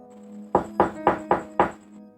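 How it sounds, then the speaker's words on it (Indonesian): Five evenly spaced, firm knocks on a bedroom window, used as a sound effect in a spoken story, each a dull thud with a slight glassy ring, close and alone over a faint background tone. "Tidak ada yang menjawab Lulu, tapi ketukan di jendela kamarnya semakin keras."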